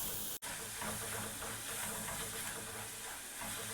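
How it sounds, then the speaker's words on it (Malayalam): Onions with a sprig or two of curry leaves are sautéed in a pan, making a soft continuous sizzle and hiss close by after a brief dropout at the start, with no voices. "1-2 തണ്ട് കരിവേപ്പില കൂടി ചേർത്ത് നന്നായിട്ട് ഇതിനൊരു ഗോൾഡൻ ബ്രൗൺ കളറാവുന്നവരെ നന്നായിട്ടൊന്ന് വഴറ്റിയെടുക്കാം"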